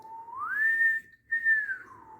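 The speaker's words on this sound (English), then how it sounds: "Yeah, that was my whistle." A single clear whistle slides up in pitch, holds, breaks for a moment, then holds again and glides back down.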